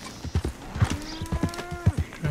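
Rhythmic hoof clip-clops of a horse in Red Dead Redemption 2, close and fairly loud, with a drawn-out tonal squeal like a whinny in the middle, sounding like game audio.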